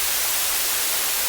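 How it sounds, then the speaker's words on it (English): Steady synthesized white noise used as distant rainfall, a constant, dense hiss with no gaps. "what we're hearing right now is basically the white noise aspect that is meant to be the distant, steady rainfall"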